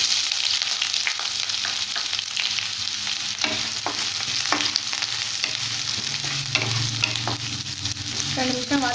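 Chopped onion frying in hot oil with mustard seeds and urad dal in a pan, a steady close sizzle broken by spoon-stirring scrapes and clinks throughout, with no talking.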